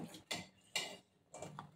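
Masala tea stirred in a pot produces three quiet metallic clinks of a spoon against the pot, evenly spaced with soft gaps between them.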